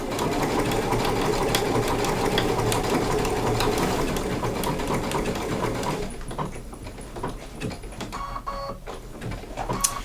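A sewing machine runs steadily for about six seconds while stitching an egg-shaped applique, then stops and gives a few short stitch bursts and clicks as the needle is set for turning.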